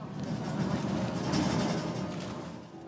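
A passenger train travelling toward Ledbury in Herefordshire rumbles steadily from inside the carriage, a close, continuous rolling noise with faint rattles over a few seconds.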